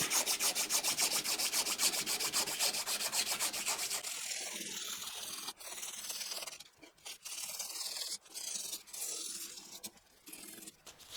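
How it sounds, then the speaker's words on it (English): A sanding block is worked by hand along guitar fret edges on a Gretsch Falcon-style copy, giving a steady close rasping scrub that later breaks into shorter, irregular angled strokes with brief pauses. "A little bit of angled sanding."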